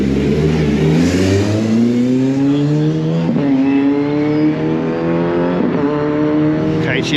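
A KTM X-Bow accelerates hard on a track, its engine note climbing loudly through rising revs with brief dips at gear changes, close and dominant throughout.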